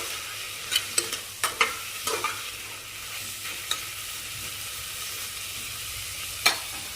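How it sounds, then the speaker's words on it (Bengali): Vegetables such as beetroot and carrot being stirred inside a pressure cooker for soup, with a low sizzle under scattered metallic spoon clacks and scrapes against the pot, and no speech. "আবার সেই কিছুক্ষণ একটু আমরা নাড়াচাড়া করব প্রেসার কুকারের ভেতর"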